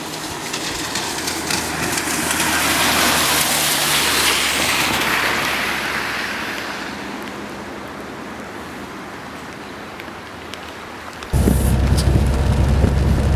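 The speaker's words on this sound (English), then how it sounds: "As you can see, it's a rainy day." Steady rain drums on a car during a drive through a mountain valley, a broad hiss that swells and fades, then turns suddenly louder and rougher near the end.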